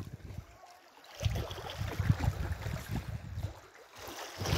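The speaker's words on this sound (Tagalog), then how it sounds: "Makikinig ng huni ng alon" Waves wash in and recede with a low rumbling surge and hiss, swelling louder midway, then easing before building again.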